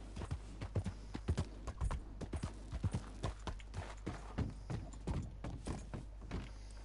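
Horse hooves clip-clop in steady, rhythmic footfalls in the video game Red Dead Redemption 2, clear and fairly close, over a low constant hum with no talking.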